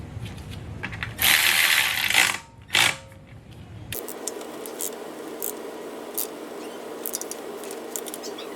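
A ratchet tightening transmission pan bolts on a 1966 Mustang, heard as quick, close metallic clicking bursts separated by pauses, then lighter scattered ticks against a quiet garage background.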